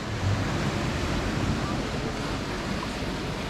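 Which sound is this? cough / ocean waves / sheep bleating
ocean waves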